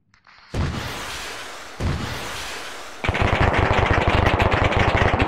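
Arma 3 gunfire on the island of Stratis: two heavy single shots ring out and decay, then a sustained rapid burst of automatic fire rattles loudly without pause, close and dominant, with no talking over it.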